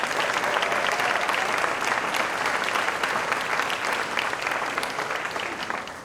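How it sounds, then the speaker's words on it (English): Sustained applause from a large audience, a dense steady patter of clapping that tapers slightly at the end. "Please, let's give each of them a round of applause."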